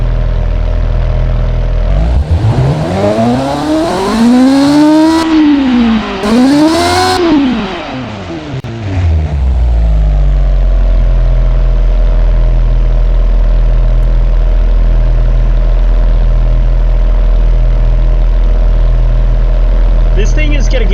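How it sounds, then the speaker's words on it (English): A car in the Automation game revs up and falls back, its engine having a gruff, diesel-like tone, with a rising and falling howl in two swells before settling into a steady low idle for the rest of the clip. "it sounds like a diesel"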